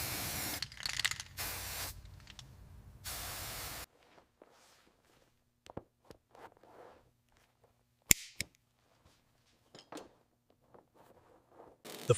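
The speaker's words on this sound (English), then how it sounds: "On the car's floor, first spray rust converter, then apply epoxy primer" Rust converter is sprayed from a can onto the floor of an old GMC vehicle during restoration. Several sustained hissing bursts come first, followed by quieter scattered taps and short sprays.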